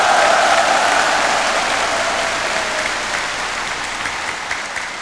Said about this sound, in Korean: 여러분 힘찬 박수를 부탁드리겠습니다